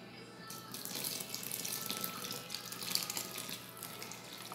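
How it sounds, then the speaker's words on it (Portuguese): Water mixed with cornstarch poured into a pan for homemade soap, a steady splashing pour that begins after a brief quiet moment and continues at moderate loudness, no talk. "Agora nós vamos colocar 500 ml de água com 50 gramas de amido de milho"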